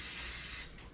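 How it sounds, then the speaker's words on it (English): A short, close hiss of cooking spray misted into a round cake pan, one steady burst that cuts off abruptly after about half a second. "So we're going to go ahead and spray our round pan here."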